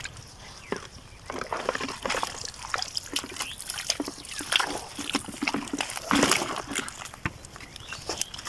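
Caught fish are washed by hand in the water at Chalan Beel, with irregular close sloshing and splashing mixed with outdoor background noise.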